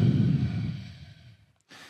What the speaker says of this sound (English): Slowly breathing in and out of the nose.